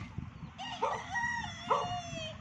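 A rooster crows a drawn-out call, joined by clucking chickens nearby, with steady outdoor background noise.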